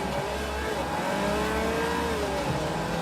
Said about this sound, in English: That engine sound.